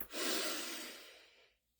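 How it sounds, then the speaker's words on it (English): A single deep inhale during a guided breathwork exercise, a close, steady airy breath that swells quickly and then fades out over about a second and a half, heard alone. "now let's take a deep breath together"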